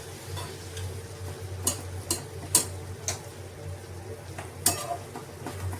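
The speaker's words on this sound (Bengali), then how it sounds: "ঢাকনাটা খুলে আমি একটু নেড়ে চেড়ে" Capsicum for chili chicken softens in a frying pan after the lid comes off. It is stirred with scattered light clicks and scrapes over a low sizzle, with a few sharper taps and no clear talking.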